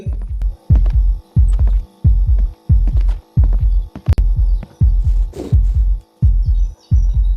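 Heartbeat effect in a Pennywise horror video game: a loud, deep, steady double-thump pulse repeating about fifteen times at an even rhythm, with a low hum beneath and no talking.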